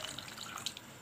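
Water pouring into a cooking pot holding stuffed vegetables and chicken, a soft, steady splashing trickle heard up close for about a second, with no talk over it.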